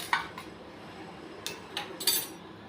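Urad dal dry roasting in a pan on a low flame without oil: a few faint, brief metallic clinks and scrapes of a utensil against the pan over a quiet background.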